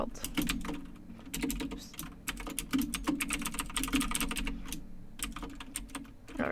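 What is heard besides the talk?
typing code on a computer keyboard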